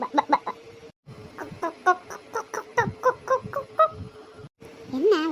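Chickens cluck loudly and rapidly up close while being caught, a busy run of short, rhythmic clucks with a brief pause, some sounds overlapping.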